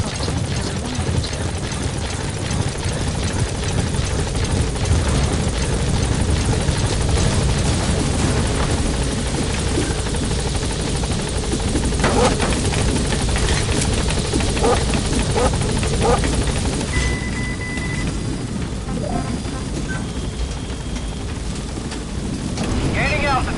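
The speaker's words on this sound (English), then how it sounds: "Support helicopter has arrived." A video-game support helicopter's rotor thrums continuously and loudly throughout, a dense steady whir with occasional faint electronic tones.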